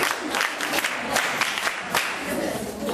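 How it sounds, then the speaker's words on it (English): Children at a school clapping together in a room, dense continuous applause with scattered voices and cheers mixed in, close and steady for a few seconds. "Clap for her, clap for her."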